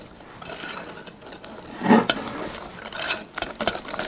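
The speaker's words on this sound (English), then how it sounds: "Give it a good whisk." A whisk stirs chocolate pie filling in a bowl, close scraping and clinking of metal against the dish in irregular strokes, with a sharper knock partway through.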